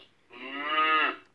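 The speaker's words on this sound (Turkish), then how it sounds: "inek, seni görüyorum." A Fisher-Price activity table toy plays a single, clear, recorded cow moo lasting about a second, heard alone.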